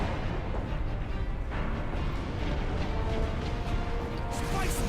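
An in-game explosion from Warhammer 40,000: Space Marine, a dense rumbling blast spread over a steady loud battle bed of gunfire and booms, with no talk over it.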